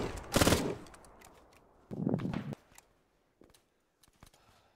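Machine gun fire in Arma 3, in a 1943/44 winter battle: a loud, sharp burst opens, a second burst follows about two seconds later, then only faint scattered clicks and distant pops.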